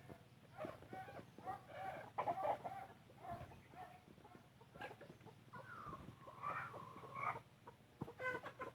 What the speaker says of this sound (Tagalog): Medyo daghan-daghan na jud tag manok ron mga lods.